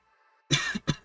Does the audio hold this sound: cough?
yes